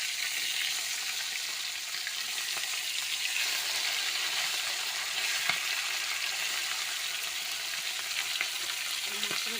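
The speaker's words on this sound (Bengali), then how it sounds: "ভাজছে চকচক করে।" Fish frying in oil in a kadai, a continuous close crackling sizzle that holds steady from start to finish with no voices.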